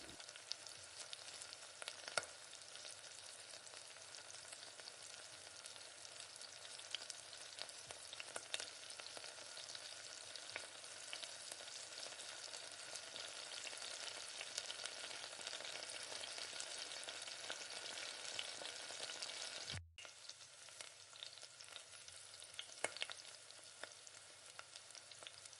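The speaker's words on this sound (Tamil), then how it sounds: "நல்லா சுருள நல்லா வதக்கி விடுங்க வெங்காயம் தக்காளியை." Onion and tomato sautéing in a pan for tomato chutney, a soft continuous sizzle with occasional stirring scrapes and a brief break partway through.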